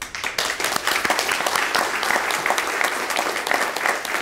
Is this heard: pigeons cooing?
no